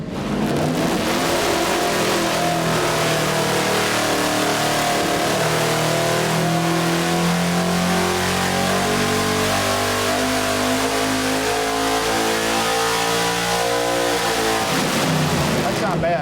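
A 406ci dirt track race engine with cast iron heads screams on a dyno, its pitch climbing steadily through a long pull from mid revs to high revs before dropping off, loud and continuous throughout.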